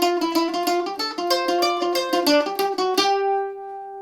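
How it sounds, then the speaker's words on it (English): A lovely, resonant Irish mandolin tone picked around the sound hole: a quick run of about sixteen bright plucked notes, then a final note left ringing and fading out, close and solo without speech. "So play around the sound hole, around here where my hand is, and you'll get a lovely mandolin sound"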